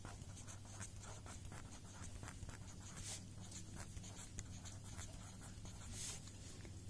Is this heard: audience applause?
no